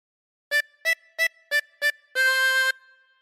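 Harmonica playing a short phrase of Oh Susanna, five crisp separate reedy notes followed by one longer held note, close and clear in otherwise silent surroundings.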